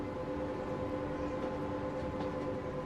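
Trains running in the Transport Fever video game, a steady, continuous rumble of rolling wagons with a tonal hum layered on top, constant and fairly loud throughout with no talking.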